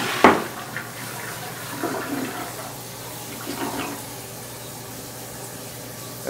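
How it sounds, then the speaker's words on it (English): An old gravity-fed toilet flushes with a sharp lever clunk followed by a rushing, gurgling surge of water that settles into a steady low wash and refill hiss, heard close up with no talking. "that's what creates enough water pressure to flush the toilet"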